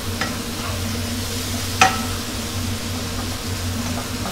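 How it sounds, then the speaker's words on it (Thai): Squid tentacles stir-fried with holy basil, seasoning and ground pepper, a steady low sizzle with a single sharp scrape of the utensil against the pan partway through. "ก็ผัดปรุงรสให้เข้ากันเลยครับ"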